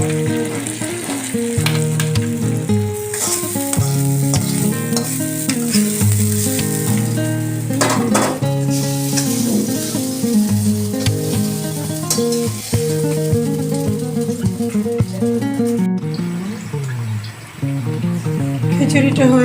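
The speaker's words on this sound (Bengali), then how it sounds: "পেঁয়াজটাকে আমরা ঢেলে দিলাম খিচুড়ির মধ্যে।" Fried browned onions are poured into a pot of khichuri on a rainy day, setting off a steady, loud sizzle with stirring that runs almost the whole way through under background music or noise.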